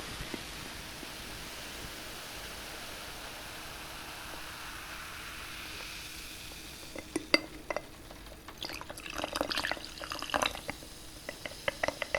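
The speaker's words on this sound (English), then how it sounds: "Apologies for the running water, guys." Water runs from a kitchen tap as a steady, faint hiss, joined in the second half by clustered drips, splashes and light clinks of dishes.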